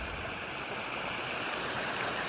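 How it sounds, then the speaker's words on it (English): Water rushing steadily through a stream in a town, a full, constant broadband gurgle and hiss with no pauses, close and fairly loud. "Plenty of water running through"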